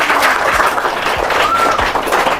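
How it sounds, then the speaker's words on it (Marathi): An audience at a village school event in Raigad claps together, a dense, loud burst of applause filling the short moment without any speech. "टाळ्या वाजवा सगळ्यांनी"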